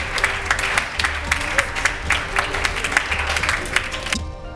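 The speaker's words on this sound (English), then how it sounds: "I want the audience there to really applaud these ones for me." An audience at a Nigerian education debate competition applauds with steady, dense clapping that fills the whole moment before it trails off at the end.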